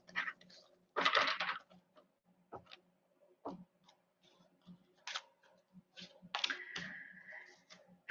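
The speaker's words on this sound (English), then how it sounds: "Okay, one more good shuffle." Crisp bursts of tarot cards riffling and tapping together, a few quick shuffles with small clicks and pauses between them, close and quiet.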